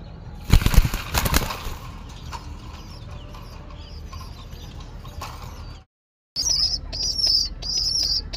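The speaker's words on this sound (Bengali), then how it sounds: "পাখা ঝাপটাইতেছে, বের হতে চাচ্ছে" Pigeons in a small rooftop coop flap their wings in a burst of loud fluttering near the start, followed by softer rustling and scratching and some chirps after a brief gap.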